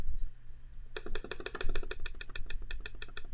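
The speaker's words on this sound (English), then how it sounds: "oh, he's using a mouse clicker" Rapid clicking from a mouse clicker, a quick run of about twenty sharp, evenly spaced clicks that starts abruptly after a quiet second, close and fairly loud.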